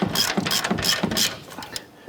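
Rapid clicking of a ratchet wrench snugging down bolts on a control arm of a 2011-2018 Ram 1500 during a front upper ball joint replacement, a close, steady run of sharp ticks that thins out at the end.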